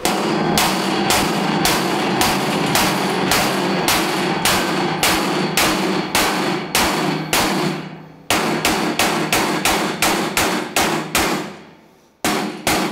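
Hammer blows on the bent metal of a Vevor safety cage for a forklift man lift, struck in a rapid, steady series of loud, sharp, ringing hits with a short pause partway through.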